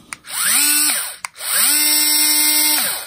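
A small DCA ADPL04 cordless screwdriver whirs in two bursts, spinning up with a rising whine, holding a steady pitch, then winding down, with a click between them.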